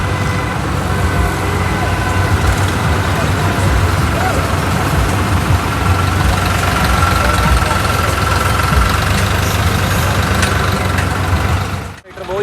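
A tractor engine roars steadily at close range while pulling a vehicle stuck in deep sand on a bad road near Dera Baba Nanak, with people talking over the heavy, continuous rumble until it cuts off at the end.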